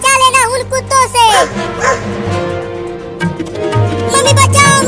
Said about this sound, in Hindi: वो कुत्ता आ रहा है